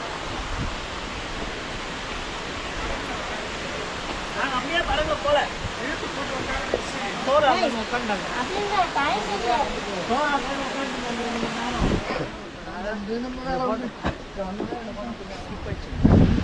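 Steady rushing roar of a waterfall in the Kolli Hills, close enough for its spray to reach, constant and loud, with people talking over it.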